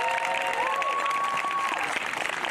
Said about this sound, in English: Can you give her another round of applause, please?